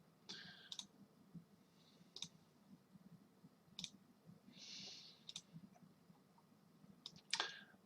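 Mouse clicks on on-screen light switches in a C++ and Qt task-scheduling program, sounding as sparse, sharp single clicks spaced a second or more apart over a quiet room hum, with a brief soft whoosh midway.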